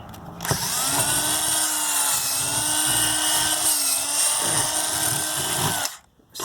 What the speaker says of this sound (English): so I got to drill again, I think.